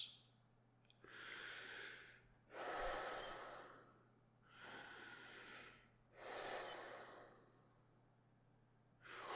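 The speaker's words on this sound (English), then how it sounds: "Deep breaths." Deep, nervous breaths taken slowly and close up, four long airy inhale-exhale swells with quiet pauses between, no talking.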